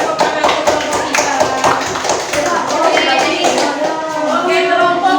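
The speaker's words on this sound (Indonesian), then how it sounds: "Berikan tepuk tangan untuk kelompok kita." A classroom of sixth-grade pupils claps for a group in a mathematics lesson, quick dense hand claps close by and continuous for several seconds.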